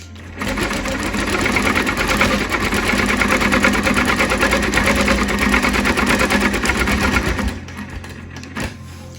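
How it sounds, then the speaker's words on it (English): A sewing machine stitching around a quilt block, its rapid, even needle chatter running loud and close for about seven seconds before stopping, followed by a brief clunk. "now I'm gonna stitch around this block"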